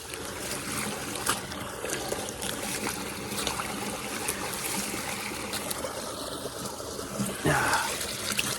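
Rainwater trickling and gurgling through a freshly cleared drainage clog on rural land after days of heavy rain, a steady close flow with small splashes and a brief louder gush near the end.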